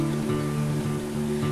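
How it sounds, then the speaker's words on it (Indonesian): Ocean waves breaking on coral rocks make a continuous, dense wash of surf with a steady low rumble throughout. "Deburan ombak yang dipecah karang itu jadi satu momen yang memanjakan mata."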